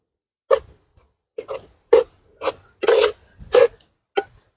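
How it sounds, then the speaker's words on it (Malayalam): Beef kidney and garam masala being stirred in a pan, heard as seven short, separate scraping strokes spaced about half a second apart, fairly close and clear with no talk. "ഗരം മസാല ഒരു ടീസ്പൂൺ ഇട്ടിട്ടുണ്ട് മതി ഇളക്കി കൊടുക്കാം"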